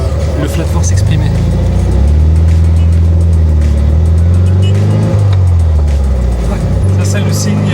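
Air-cooled flat-four engine of a Volkswagen Beetle 1303 Cabriolet Karmann runs steadily with a low, throbbing drone, the revs rising and falling slightly, while people talk over it.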